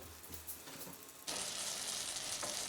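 Fruit compote cooks in butter in a pan on a gas stove over very low heat, a soft sizzle that turns into a steady, louder hiss with faint stirring scrapes. No one speaks.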